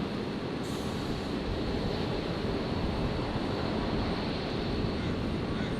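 A Jetstar Airbus A320 arriving at Brisbane from Sydney gives a faint, distant, even jet roar that holds steady throughout with no voices over it.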